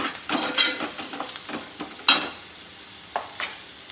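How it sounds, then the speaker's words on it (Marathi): Fish masala with turmeric and chilli powder being stirred in a pan for a Karli fish gravy: irregular scraping spoon strokes with brief clatters, a few sharper knocks, over a soft background sizzle. "चांगल्या प्रकारे हलवून घेते"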